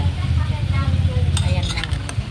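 Food in a cooking pan is stirred, with metal scraping and clinking over a low bubbling simmer, close and fairly loud, while noisy cats are around.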